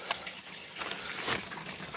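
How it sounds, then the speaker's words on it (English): Hot water from a homemade wood-fired heater converted from an old gas water heater runs and splashes in an uneven, close trickle with a few brief spatters, no voices present. "Hot water, time to take a shower."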